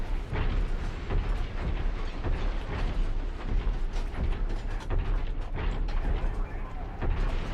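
Weapons fire and explosions in the MechWarrior 5 video game: a steady barrage of distant mechanical thuds and blasts that continues throughout at moderate level, with a voice talking over it.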